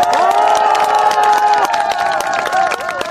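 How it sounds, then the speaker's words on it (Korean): A crowd at an outdoor political rally in Goyang breaks into loud, sustained applause and cheering for the city's mayor, with dense clapping and excited shouts continuing throughout. "우리 이재준 시장 고생하신다고 박수 한번 부탁드립니다"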